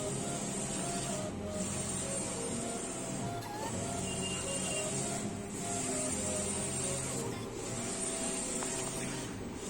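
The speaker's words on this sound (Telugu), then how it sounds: "ఇప్పుడు స్టార్ ఫ్లెక్స్ అయితే ప్రింట్ అవుతుంది" A flex printing machine prints a Star flex banner, its print head sweeping back and forth in a steady hissing, whirring rhythm with periodic carriage reversals, continuous and close, with no talk.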